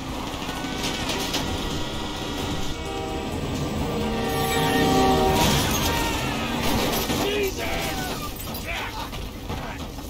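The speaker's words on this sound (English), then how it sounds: "Beat the train" In the game GTA V, a train rumbles past amid a chase with clanking metal, rising and fading mechanical noise and crashes, mixed with game sound effects.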